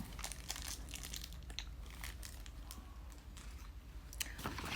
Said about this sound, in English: I'm chewing on this